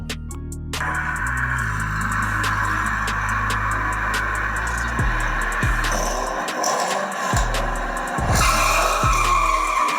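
Hot Wheels die-cast toy cars racing down a track, a busy continuous rumble of small wheels rolling with repeated sharp clacks and rattles as cars pass over joints, fairly loud throughout.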